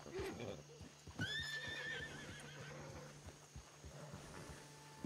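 A horse in a ranch roleplay video game gives a bright neigh near the start, followed by a few soft, clopping hoofsteps, all fairly quiet and close with no talking.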